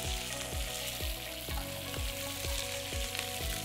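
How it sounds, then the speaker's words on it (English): Halved carrots searing face down in hot olive oil, a steady close sizzle with a faint rhythmic ticking throughout, no voices. "we're gonna get some olive oil, a little olive oil, and we're gonna put our carrots face down."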